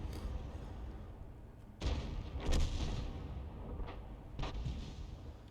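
Tank cannon rounds and shell impacts in a tank battle video game, with a KV-5 among the targets: four heavy booms spaced about a second apart over a low rumbling background.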